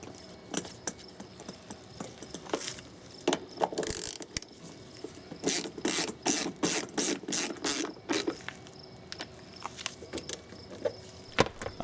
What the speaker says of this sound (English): Just unscrew the old one using Torx 25 and screw the new one back in.